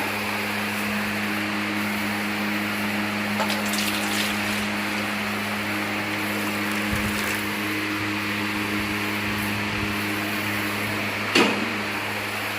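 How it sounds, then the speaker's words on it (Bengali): An electric ceiling fan runs steadily in a home kitchen, making a loud, constant whirring hum with a low drone that continues throughout without pause. "কারণ পাখাটা আওয়াজ হবে, তবুও গরমের জন্য পাখাটা চালিয়েছি।"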